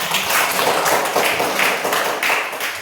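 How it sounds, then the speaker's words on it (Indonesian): Loud, close classroom applause from a fifth-grade class after a pupil's presentation, a continuous dense clatter of many hands that swells and dips slightly throughout. "Kasih dulu tepuk tangan."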